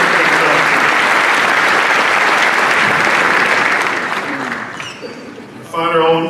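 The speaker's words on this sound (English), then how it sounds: "Let's give him a round of applause" A crowd at a 2017 city inauguration ceremony in Aurora applauds loudly and steadily for several seconds, then the clapping fades out and a voice begins speaking over a microphone.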